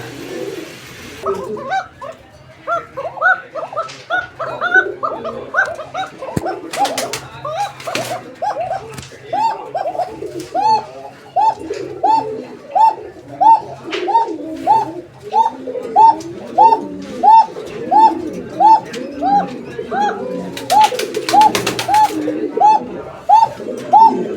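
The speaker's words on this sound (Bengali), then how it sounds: "এতক্ষণ আমরা কিন্তু এই জোড়াটির ডাক আপনাদেরকে শোনানোর চেষ্টা করেছি" A pair of Indian Chini Kaldom pigeons cooing up close: loud, rhythmic, repeated throaty coos rolling on in a steady series, with a few brief clatters and rustles.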